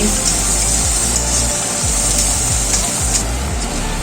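Garlic paste fries in a pan for chicken Manchurian with a loud, steady sizzling hiss, broken by a few scraping stirs.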